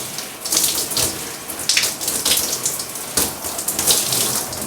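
Tap water runs in a close, steady rush while conditioner is rinsed out of hair, splashing unevenly as the flow is broken up, with no voices.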